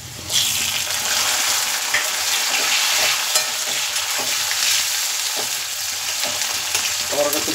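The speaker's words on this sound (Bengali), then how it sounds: "টমেটোটা একটু ভাজা ভাজা করে নেব।" Tomatoes and green chillies fry in a pan over onions, giving a loud continuous sizzle with scattered stirring scrapes and clicks, close up.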